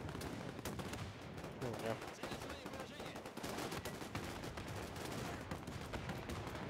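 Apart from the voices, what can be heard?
field gun firing in the video game Men of War 2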